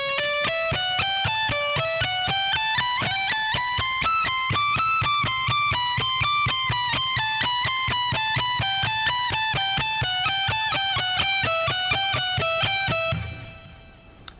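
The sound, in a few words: slow electric guitar speed-soloing exercise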